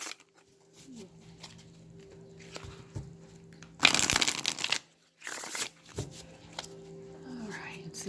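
An Animal Totem Tarot deck is shuffled by hand. Soft shuffling and handling of the cards gives way to two loud riffling bursts in the middle, with faint voice-like sounds alongside.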